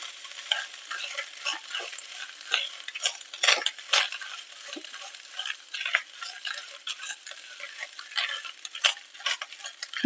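A spoon stirs a salted mixture in a pan while making kozhukattai dumplings, giving a busy run of close clinks and scrapes against metal over a faint sizzle for about ten seconds, with no voices.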